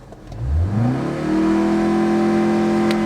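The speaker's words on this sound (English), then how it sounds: "the exhaust note on this car, considering it's supposed to be the full-fledged top tier M model" A 2025 BMW M135 exhaust rising quickly from idle into a loud, steady held rev, a droning note that stays level near the soft limiter for several seconds.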